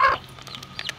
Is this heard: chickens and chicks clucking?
yes